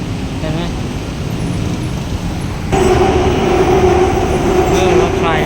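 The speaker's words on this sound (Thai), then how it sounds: "รถไฟวิ่ง" A train runs past as a steady, loud mechanical rumble that grows noticeably stronger about halfway through.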